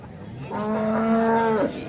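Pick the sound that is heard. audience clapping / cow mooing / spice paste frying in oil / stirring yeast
cow mooing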